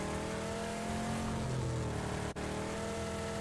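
Engine of a vehicle in the PUBG video game, a steady loud droning motor hum with a sustained revving tone that runs throughout, briefly cutting out for an instant near the end.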